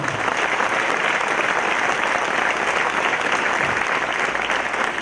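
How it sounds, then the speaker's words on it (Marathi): An audience at a public lecture bursts into loud, sustained applause for the speaker, a dense wash of clapping that holds steady from start to finish. "अंकारे सरांसाठी जोरदार टाळ्या वाजवा"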